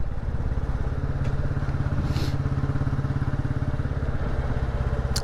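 A Royal Enfield Classic 350 single-cylinder motorcycle on the move, its rapid, even thumping exhaust beat steady and close, joined by a brief whoosh of passing wind partway through.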